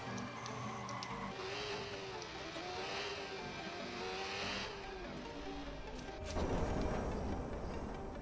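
Engine of a motorcycle being ridden in Watch Dogs, a steady mid-range drone with rising and falling pitch as it accelerates, ending in a louder, harsher burst of noise.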